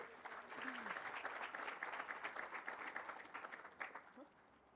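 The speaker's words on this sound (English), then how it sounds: "So another round of applause for her" An audience applauds for the newly announced 107th Rose Queen, a sustained, dense wash of clapping with a brief voice beneath, fading toward the end.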